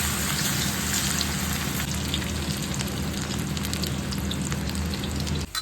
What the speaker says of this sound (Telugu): ఇప్పుడు వీటిని వేడివేడిగా మరుగుతున్న ఆయిల్లో డీప్ ఫ్రై చేసుకోవాలి.